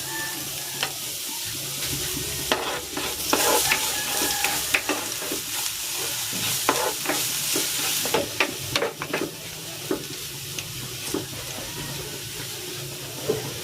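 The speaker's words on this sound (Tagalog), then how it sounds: "Igigisa ko na tong bawang." Garlic sautéing in hot cooking oil for lechon paksiw, a loud close sizzle and hiss with scattered scraping strokes and pops, continuous and without talking.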